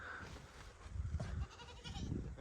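Goats bleat nearby in a farm setting, with several wavering, nasal calls overlapping across a short stretch against quiet outdoor background noise.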